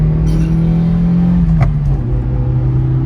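A 1990 Toyota Corolla engine pulls hard through the gears, a loud close-up drone that eases in pitch as it shifts and then keeps climbing.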